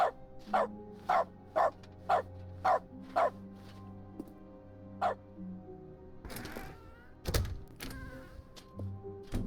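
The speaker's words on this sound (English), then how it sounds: "You turn your keyboard sounds into dog noises if that's checked." A dog barks in quick rhythmic bursts, about nine barks in a row, followed by a few scattered thumps and another bark or two, as dog barks replace keyboard sounds in the video game The Stanley Parable.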